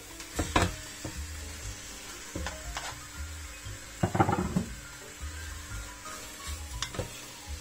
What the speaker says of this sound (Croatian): I sada ćemo dodati slaninicu i meso.